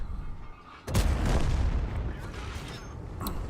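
Artillery fire in a tank battle video game, a T-34-3 under shelling: a sudden heavy boom breaks in and rolls on as a dense, loud rumble that fills the rest of the moment.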